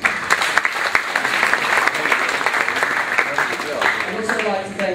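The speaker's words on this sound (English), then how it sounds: "give her a round of applause, please" A room of people gives a loud, steady round of applause at a raffle event, dense clapping continuing without a break and tapering slightly near the end.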